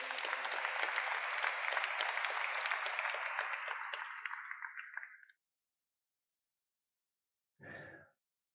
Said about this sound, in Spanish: Demos un aplauso a Dios, por favor, y a Jesús.